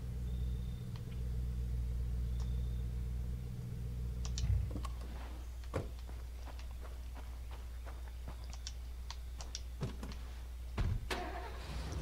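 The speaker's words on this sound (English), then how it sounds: "Then we'll take the truck." A truck engine in State of Decay starts with a low rumble that stops after a few seconds, then gives way to quiet footsteps and scattered clicks and knocks.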